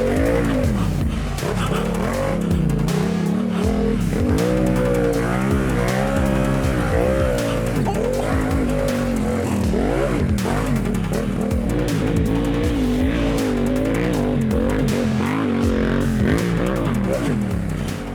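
A Yamaha MT-07 twin-cylinder motorcycle ridden through deep ruts on a motocross track, loud close engine roar with constantly rising and falling revs and throttle blips, filling the whole stretch without pause.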